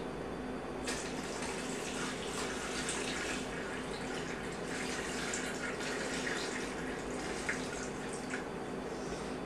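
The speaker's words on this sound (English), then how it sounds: "I'm going to drain most of this in the sink." Water pours steadily into a kitchen sink as starchy cooking water is drained off a pot of rice, a continuous splashing rush with some dripping, close and uninterrupted throughout.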